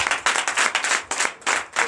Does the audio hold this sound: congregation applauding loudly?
yes